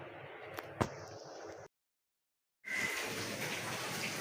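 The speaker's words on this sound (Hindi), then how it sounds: "तो अगेन बहुत तेज़ बारिश शुरू हो गई है" Heavy rain pours down in a dense, steady roar, breaking off for about a second before returning even louder and fuller, with no talking.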